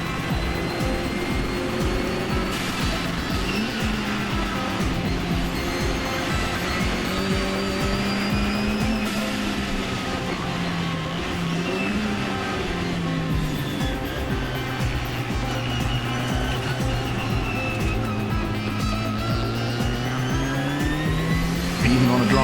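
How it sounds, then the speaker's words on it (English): A Mini race car powers out of corners on a dry tarmac circuit with constant wheel spin, its engine droning loud and close while pitch climbs and dips through gear changes over a steady track roar. "Just constant wheel spin as he's powering out."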